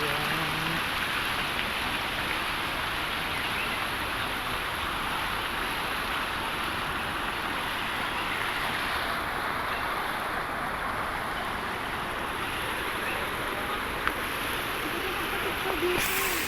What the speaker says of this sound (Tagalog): dumadaloy ang tubig